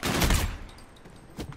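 A pistol fires in the video game Call of Duty: Infinite Warfare, a sharp burst at the start that fades quickly, followed by a quieter thump.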